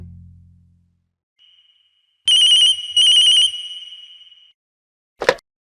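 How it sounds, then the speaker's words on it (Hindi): An outgoing phone call rings in two close, bright bursts of ringtone, followed by a brief fading tail and then a single short electronic chirp, with no one talking. "रिंग हो रही है।"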